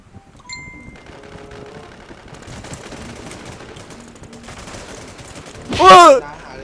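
Gunfire in the online shooter game Infestation, a quiet stretch of game sound that ends in a loud, brief burst of shots with ringing tones near the end.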